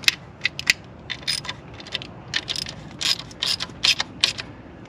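A ratchet tightens tin valve cover bolts on an abandoned Volkswagen Rabbit, giving short bursts of crisp, close clicks with brief gaps between strokes.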